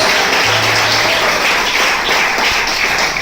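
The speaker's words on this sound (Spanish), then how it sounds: "Si le vas a aplaudir, hazlo fuerte" A church congregation claps continuously in a dense, even wash of applause during a Sunday school service, steady and fairly loud throughout.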